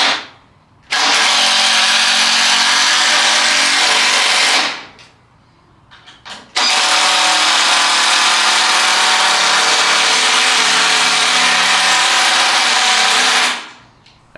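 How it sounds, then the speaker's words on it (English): A cordless drill drives 3-inch screws into a wooden workbench frame in two long loud bursts, the motor winding up, whining steadily for several seconds, then spinning down, with a brief pause between runs. "time to send some more 3-inch screws"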